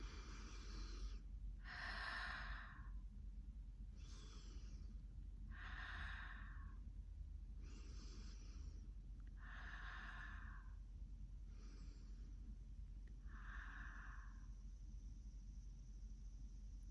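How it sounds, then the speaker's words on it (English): Slow deep breaths during a mindfulness breathing exercise, about eight long airy inhales and exhales at a steady, unhurried rhythm, close to the microphone over a constant low outdoor rumble. "So first, a few deep breaths."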